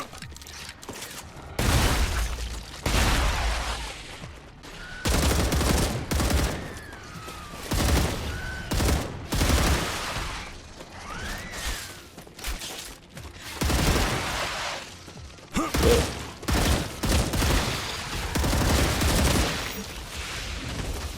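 Repeated bursts of gunfire from the video game StarRupture, loud rapid volleys separated by short pauses, with mechanical clicks of a weapon reload between shots.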